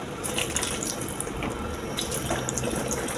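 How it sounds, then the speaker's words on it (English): Water pours from a tap into a pot for cooking fufu, making a steady, close splashing rush that runs unbroken for a few seconds. "now add water."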